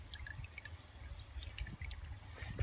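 Hot wax drains and drips off a freshly dipped processed duck, a faint, close patter of irregular drips with light trickling over a quiet background.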